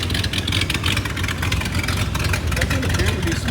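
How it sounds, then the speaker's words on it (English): A 1978 Ford F250 truck engine, run after more than 20 years parked, idles with a steady low rumble that continues unbroken throughout, close to the microphone and loud, with some rattly mechanical texture on top. "It's doing all right. At least it idles."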